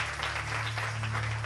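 A church congregation claps in a dense, continuous burst of applause, fairly loud and sustained for the whole short moment.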